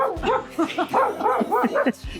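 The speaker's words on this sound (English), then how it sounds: "Dogs! Crazy dogs!" Several dogs bark and yip excitedly in quick, rapid bursts, loud and close, overlapping one another.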